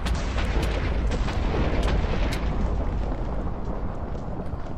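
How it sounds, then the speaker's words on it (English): Fire attacks zapping a player in a video game: a dense, continuous roar of crackling blasts with scattered sharp pops, loud and sustained without a break. "I'm getting zapped with fire a lot."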